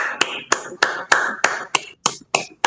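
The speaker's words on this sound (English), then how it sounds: "Give him a nice round of applause if you would." Applause for Lawrence Hilton Jacobs as he is introduced, heard as a sharp, rhythmic series of about nine close, crisp claps spaced evenly apart, loud and alone.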